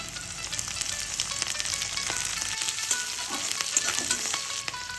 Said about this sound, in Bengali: তেল গরম হয়ে গেছে, এবার আমি থেতো কটা রসুনগুলো দিয়ে দেবো।